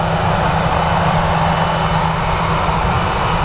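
Airliner jet engines roar steadily at Manchester Airport, a loud, continuous drone with a low hum running underneath, no voices.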